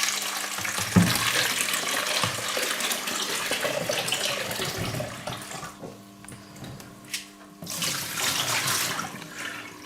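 Water runs from a kitchen tap while a container used for making tofu is rinsed out, a steady splashing gush that briefly cuts off and then resumes.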